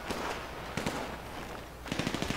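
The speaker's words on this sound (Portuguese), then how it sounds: "tô escutando disparos aqui" Bursts of rapid gunfire crackle in the video game GTA V, several quick volleys against a steady noisy background.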